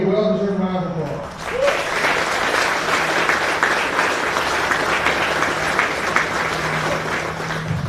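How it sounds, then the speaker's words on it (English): An audience at a military brigade change of command ceremony gives a sustained, loud round of applause for the Cornerstone Brigade, following a brief spoken line from a man at the start. "Let's give the Cornerstone Brigade a well-deserved round of applause."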